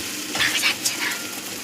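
Masala is stirred and fried in a pan, with a soft sizzle under a few quick scraping and clinking strokes of a spoon, close and brief.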